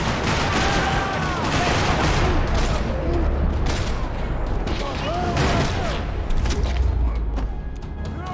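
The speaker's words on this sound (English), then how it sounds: "Another parking lot rattling with gunfire." Dense gunfire rattles through a parking lot in the video game Max Payne 3, with rapid overlapping shots and bursts continuing loudly and steadily for eight seconds.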